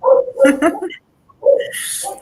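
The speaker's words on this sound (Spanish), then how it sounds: "además del perro que está opinando" A dog yips and whimpers close by in short bursts during a Spanish-language television discussion broadcast, two separate brief episodes with a gap between them, with no clear speech.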